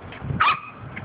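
A single short, high-pitched yip from a corgi puppy, brief and close, with faint background noise around it.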